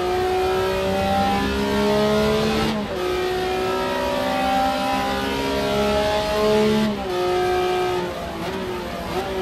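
A race car engine from a racing video game, a Capri or M1 on the Heusden (Zolder) circuit, screams loudly and steadily at high revs, its pitch climbing through gears with brief dips at two shift points, no voices over it.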